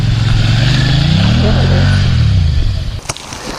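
A motorcycle engine idles and rumbles close by with a rising and falling pitch, then cuts out near the end as the bike is parked, leaving quieter background noise.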